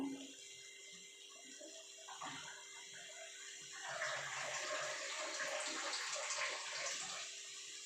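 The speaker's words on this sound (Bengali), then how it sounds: "এবার আমি জল দিয়ে দেবো" Water is poured into a pot of moong dal cooking with ridge gourd, a soft trickle that turns into a fuller, steady splashing pour about halfway through, heard fairly close and quiet with no talking.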